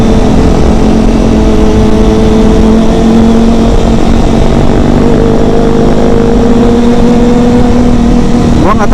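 A Kawasaki ZX-25RR motorcycle engine revs loudly and steadily while cornering on a sloping, pothole-strewn road, its close, buzzing tone holding on and rising slightly near the end.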